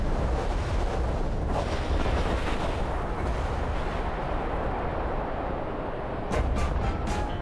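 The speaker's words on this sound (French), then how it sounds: "L'explosion de ces bombes atomiques" An atomic bomb test explosion at Bikini Atoll in the Pacific makes a sustained, rumbling roar that stays loud and dense throughout, with a few sharper bursts near the end.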